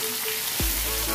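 Onion, garlic cloves and chopped ginger frying in oil in a pan, giving a steady close sizzle with a brief low thump partway through.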